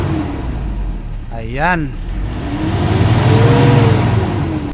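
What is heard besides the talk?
Toyota Innova engine revving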